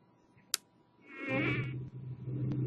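A bee buzzes in a student video project, a sharp click first, then a droning buzz swelling in from near silence and settling into a steady, moderately close hum.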